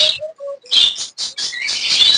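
Caged birds on a bird farm chirp close by in a quick run of short, bright tweets and calls, some overlapping, with brief gaps between.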